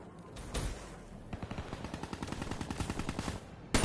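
Rapid bursts of automatic gunfire in Black Ops 3 online multiplayer, a steady run of sharp close shots lasting a couple of seconds, with a louder report at the very end.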